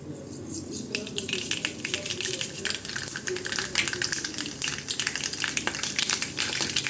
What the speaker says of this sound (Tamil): எண்ணெய் காஞ்சிடுச்சு, கடுகு போட்டுக்கலாம்.